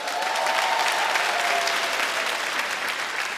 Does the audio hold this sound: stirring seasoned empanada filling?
no